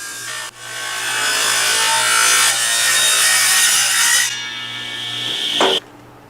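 A hand saw rasps steadily through a birdseye maple or walnut board, splitting it lengthwise in a workshop; a loud, continuous close-up rubbing stroke noise that stops abruptly near the end.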